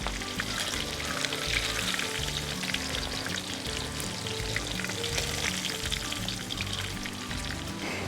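Fish frying in hot oil for a Kerala-style fish molly, a steady loud sizzle and crackle running unbroken throughout with no voices.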